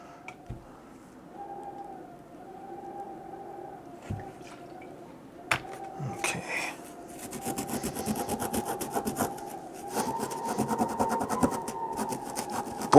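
A Scotch-Brite pad scrubs hardened old paint and dirt off the wooden corners of a Nintendo Vs. dual arcade cabinet, first in soft intermittent rubs, then in rapid, steady rasping strokes close up, with no talking.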